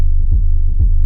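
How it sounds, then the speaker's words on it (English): A deep, throbbing techno rumble from an SP-404 MK2 sampler with parallel distortion, two heavy low pulses pounding under a steady droning hum, followed by a brief bright burst at the end. "So we are doing basically parallel distortion."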